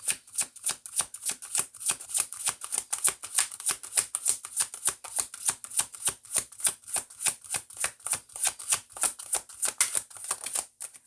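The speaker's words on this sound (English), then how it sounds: "Let me shuffle a few more times" Rapid, rhythmic riffling of cards shuffled repeatedly up close for a reading, crisp flutters repeating in a steady pattern with no talking.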